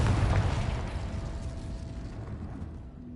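A Confringo spell in the Hogwarts Legacy video game bursts into a deep, rumbling explosion that hits hard at the start and slowly fades into a thin tail.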